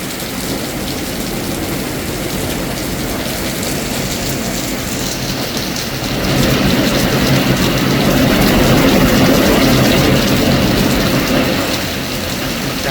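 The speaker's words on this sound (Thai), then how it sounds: "ฝนตกหนักมากครับ" Heavy rain pours at a house in Sakon Nakhon, Thailand, in a dense, continuous roar, growing louder and thicker partway through, with a low rumble underneath.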